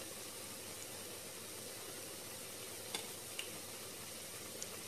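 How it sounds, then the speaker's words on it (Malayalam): Cauliflower fritters (baji) frying in hot oil, a steady, soft, even sizzle with a couple of faint clicks, no voices. "രണ്ട് സൈഡും നന്ന ക്രിസ്പി ആവുന്ന വരെ ഫ്രൈ ചെയ്യണം."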